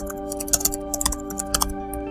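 Keys clicking on a computer keyboard as a topic is typed in, several quick taps in short clusters, close and clear over a steady background hum.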